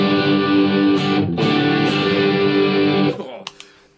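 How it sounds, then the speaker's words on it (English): Electric guitar played through an MXR Distortion Plus pedal, a thick, hard-clipped sustained chord ringing loud for about three seconds before cutting off, followed by a few sharp string or pick noises. "And with the MXR Distortion Plus"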